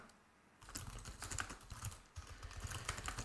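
Rapid typing on a computer keyboard while writing a search string in a text editor's find box, with close, dense key clicks that start after a short quiet pause and continue steadily.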